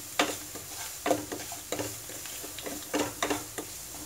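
Onions sautéing softly in a pan, a faint low sizzle broken by regular stirring scrapes and light clinks of a spoon against the pan, every second or so, no talking.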